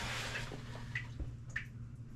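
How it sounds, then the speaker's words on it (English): Water drips steadily inside the hull of a Seafarer 36 sailboat, a few faint, sharp plinks spaced about a second apart over a low steady hum. "I don't know if you can hear that, but it is dripping every second."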